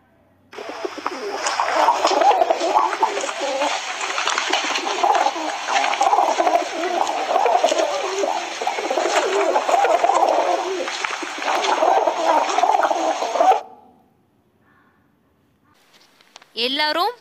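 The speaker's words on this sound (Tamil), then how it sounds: "இப்போ இந்த புறாவுடைய சவுண்ட் எப்படி இருக்குன்னு சொல்லி நம்ம கேட்கலாமா" A pigeon calling with a long stretch of continuous burbling, warbling coos, fairly close and clear, ending abruptly, followed by silence and a brief voice at the end.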